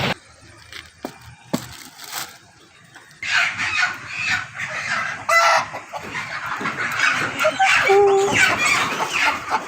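Native country chickens cluck loudly and close, with repeated squawks and a rising crowing call toward the end, clustered and busy throughout.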